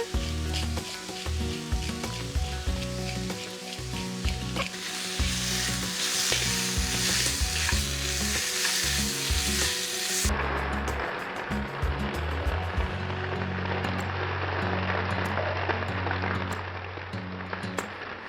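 Meat and onions for a cheesesteak sandwich frying in a pan over high heat, a loud continuous sizzle with crackling, shifting in tone partway through as it keeps hissing steadily.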